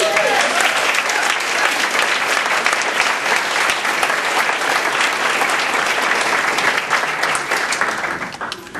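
A crowd at a mayoral candidate forum in a public library claps loudly and steadily, the dense applause filling the room throughout and tapering slightly at the end.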